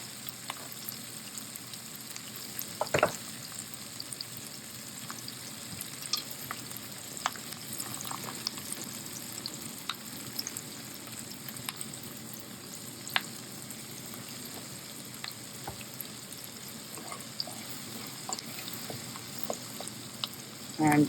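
Onions fry in a pan for a vegetable korma, giving a steady crackling sizzle throughout with occasional sharper pops and a brief clatter near the start, no voices.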